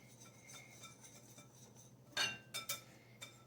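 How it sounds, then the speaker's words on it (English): Whisk or spoon mixing baking soda and baking powder into all-purpose flour in a bowl for pancakes: faint scraping for the first two seconds, then a few louder clinks of utensil against the bowl. "We're going to put it into our all-purpose flour, and we're going to mix it in really good"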